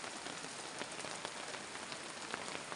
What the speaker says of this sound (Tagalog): Ayan na po, malakas po ng ulan.